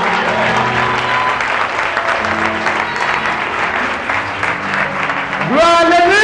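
A church congregation applauds loudly and steadily while voices and sustained tones carry over the clapping, ending with a rising, drawn-out vocal call.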